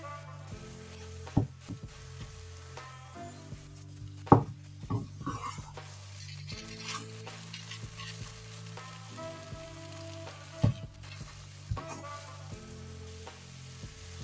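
Chakwali halwa mixture, browned and grainy, roasting in a pan: a continuous low sizzle broken by several sharp scraping and clanking strokes of a spoon against the metal, with no talk.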